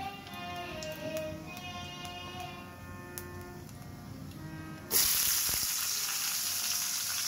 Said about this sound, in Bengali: পেঁয়াজ, মরিচ, আদা, রসুন সব কিছু দিয়ে দেবো।